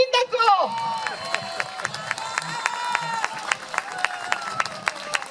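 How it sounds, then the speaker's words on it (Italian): Applause and cheering from a crowd at an Epiphany Befana event in Adria, honoring the mayor, with sharp claps over a busy, bright wash of noise and murmuring voices beneath. "un applauso al sindaco!"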